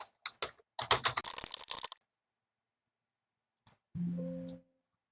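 A burst of rapid keystrokes on a computer keyboard as a username and password are entered, followed by silence, a single click and a brief tonal beep.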